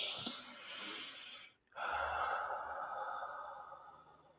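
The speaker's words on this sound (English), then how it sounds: "Breathing." Breathing, a slow breath drawn in and let out close to the microphone, soft airy rushes separated by a brief silent pause.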